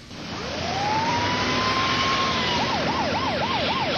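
An ambulance siren rises into a long steady wail, then switches to a rapid up-and-down yelp, loud over a rumbling street and vehicle background.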